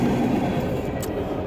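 A train rumbles past a car stopped at a crossing, a loud, steady low roar of rolling wagons heard from close by, with no voices.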